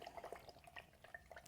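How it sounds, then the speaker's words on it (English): A paintbrush swished and rinsed in a cup of water, giving quiet, close sloshing and dripping sounds in short irregular bursts. "Clean that brush really good. You hear it sloshing around in that water?"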